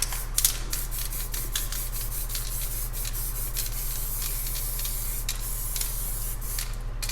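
A spray paint can hisses in short and longer bursts at close range while space-themed spray paint art is made, a steady airy spray texture broken by a few pauses.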